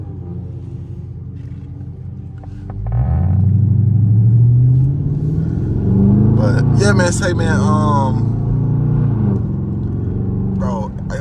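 Dodge Charger V6 with a loud aftermarket exhaust in evening traffic, engine rumble swelling as it pulls away and holding a low drone, while the driver talks over it.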